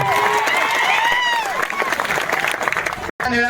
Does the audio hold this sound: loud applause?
yes